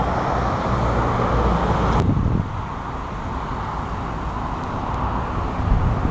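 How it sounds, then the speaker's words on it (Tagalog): A car passes on the road in Santa Rosa, a loud rushing swell of tyre and engine noise that fades into steady traffic and wind hiss heard from close range. "Ayan, may kotse o."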